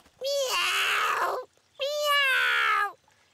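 A cartoon kitten stuck in a tree gives two drawn-out, high, plaintive meows, each over a second long with a short pause between, close and clear with no talk.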